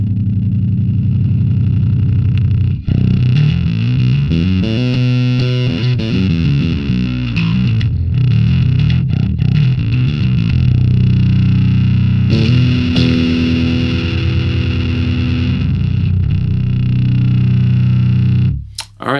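A growly, heavily distorted bass played through the STL Tonality Will Putney Suite amp simulator plays a riff of low notes and runs, loud and saturated, with a brief sharp noise at the very end.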